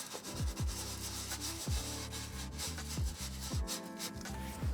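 Rubbing and sanding-like strokes against a surface while installing a Bed Riser Pro set in a Winnebago Revel camper, repeated rhythmic scrubs about once a second with a steady underlying hum, close and fairly loud, no talking.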